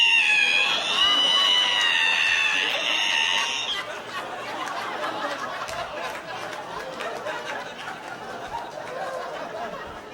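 A voice imitates the screeching squeak of an ironing board being opened, a loud high wavering shriek for several seconds, then fading into audience laughter and crowd noise.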